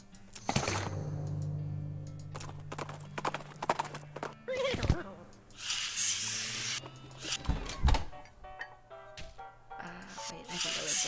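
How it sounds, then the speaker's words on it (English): Horse sounds from the video game West of Loathing: a whinny and hoof clip-clops come in short bursts among other game effects, with a voice talking over much of it. "JJ Horse is making many noises."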